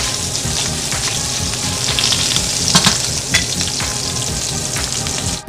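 Tempura shrimp sizzle steadily in a hot pan, a dense, continuous frying hiss with occasional louder pops and stirring scrapes, close and fairly loud throughout with no talking.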